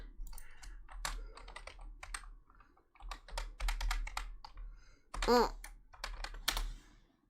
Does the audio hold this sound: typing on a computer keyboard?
yes